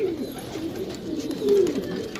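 Pigeons cooing close by in a loft, a soft low murmur throughout with a clearer coo swelling near the middle, with no talk over it.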